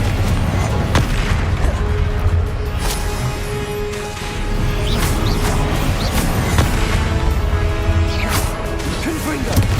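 Spell combat in Hogwarts Legacy with the Confringo fire blast, a dense barrage of booms, whooshes and crashing impacts under constant loud game noise, with speech mixed in.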